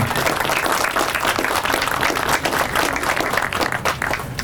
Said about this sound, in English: Will you give our excellent mayor one more round of applause?